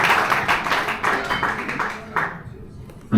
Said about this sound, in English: give one more round of applause for Megan Stepka and Kate Hart